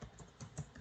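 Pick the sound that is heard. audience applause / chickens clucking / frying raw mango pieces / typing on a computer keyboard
typing on a computer keyboard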